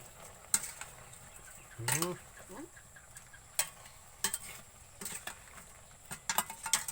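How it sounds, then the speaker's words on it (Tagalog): Spoon stirring a meat dish in a pan, scattered scraping clinks and knocks against the metal over a faint sizzle, close and fairly quiet, with a brief voice heard in the middle. "Saka natin haluin."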